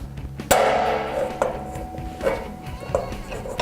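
In a blacksmith's shop, a ball peen hammer strikes hot metal four times in a slow, even rhythm, each ringing clang close and loud over low background noise.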